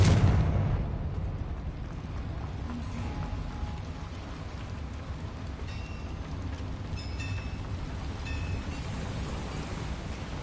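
A Confringo blasting spell explodes in Hogwarts Legacy, with a loud burst at the very start that decays into a long low rumbling roar that lingers and slowly fades under faint ambient tones.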